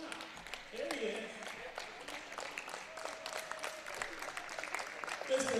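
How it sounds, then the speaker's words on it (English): An audience in a gym at a high school women's varsity basketball game applauds the principal. The clapping is a broad, continuous patter, with voices and crowd chatter mixed in throughout. "Please give a round of applause."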